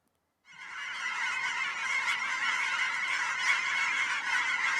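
A rowdy chorus of Canada geese honking continuously in a large flock in Oregon's fields and wetlands on Sauvie Island, starting abruptly after a brief silence and staying dense and loud throughout, with no talking.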